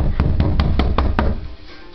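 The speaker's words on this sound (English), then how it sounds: "We're knocking on this door." Knocking on a bathroom door, with about six evenly spaced raps in quick succession at moderate loudness, followed by a brief pause over a steady background hum.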